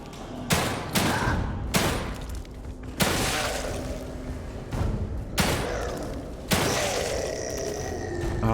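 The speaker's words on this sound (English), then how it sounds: "that was way more bullets than I wanted to shoot at him" Bursts of gunfire from The Evil Within 2 video game, several loud volleys with sharp onsets spread across the span, each trailing into reverberant rumble and clatter, with game ambience beneath and no talking.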